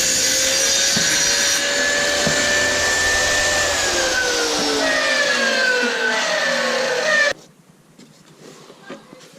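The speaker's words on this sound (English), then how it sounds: "We just cut the piece of plywood for the bunk" A saw cuts a plywood piece for a wooden doll bunk bed, giving a loud, close whining cut with falling pitch that runs several seconds before stopping abruptly, leaving faint room noise.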